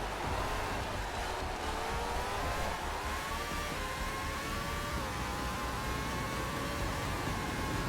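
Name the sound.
race car engine in the video game Formula Legends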